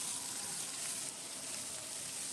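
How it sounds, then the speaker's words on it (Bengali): Three medium onions, chopped and salted, fry in a wok with a steady, dense sizzle that stays even and unbroken throughout. "এবার পেঁয়াজটা যখন অর্ধেক ভাজা হয়ে গেল"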